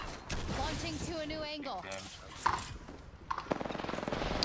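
Apex Legends firefight with bursts of automatic gunfire and rapid shots, the loudest and densest fire coming near the end, mixed with game sounds while someone talks over it.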